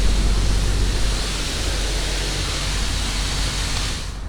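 A high-pressure rinse wand at a car wash on a winter day blasts a steady, loud, broadband hiss of spraying water, unbroken for the whole stretch before cutting off at the very end.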